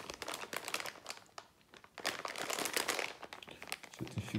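A large plastic parts bag from a Tekno ET410 1:10 4WD truggy kit crinkles and rustles up close in several bursts with brief pauses, with no talking.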